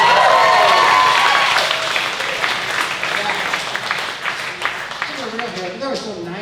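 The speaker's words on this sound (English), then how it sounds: "Can we give a round of applause for some of the heroes on our people that make YouTube videos on how to fix basic shit on" Comedy club crowd claps and cheers loudly at the start, then the applause thins and fades over several seconds.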